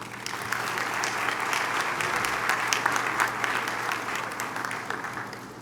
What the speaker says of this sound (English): Can we give Prof Vusi Gumede another hand clap?